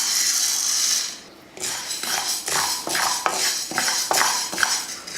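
Green gram being dry-roasted in a pan and stirred with a metal utensil, giving repeated scraping and clinking strokes in a steady rhythm over a constant hissing background, close up, with no talking.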